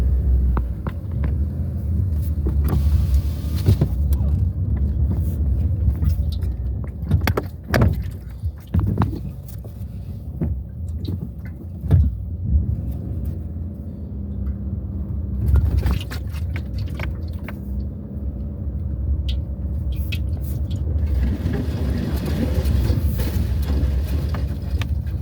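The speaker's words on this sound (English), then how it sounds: "This is really gonna test off-road driving skills with a non-off-road car." A basic road car, not built for off-road use, drives over a rough off-road track. A continuous low engine rumble runs throughout, broken by bumps, knocks and rattles from the bodywork, with no talking.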